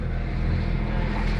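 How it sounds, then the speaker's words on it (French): A steady low drone from a sailboat's auxiliary engine motoring in calm conditions off the Peloponnese, Greece, runs continuously, close and fairly loud, with a rumbling hum and no talk over it. "Vous entendez peut-être une assistance moteur."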